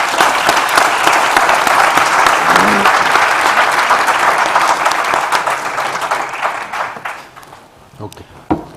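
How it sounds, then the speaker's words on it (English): A conference audience at a global forum on childhood pneumonia gives sustained applause, dense clapping that holds steady and then thins out near the end with a few last claps and murmurs. "Please join me in giving them a warm round of applause."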